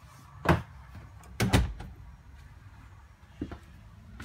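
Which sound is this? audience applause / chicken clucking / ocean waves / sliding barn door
sliding barn door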